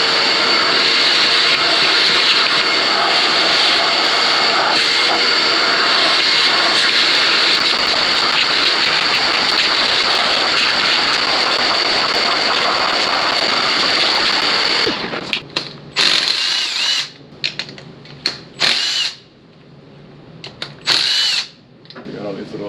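Vacuum cleaner suctioning debris and rat droppings out of a junkyard Audi A6 3.0 TFSI engine, a loud, steady high-pitched whine for about fifteen seconds, then choppy bursts as the nozzle moves and the airflow is interrupted.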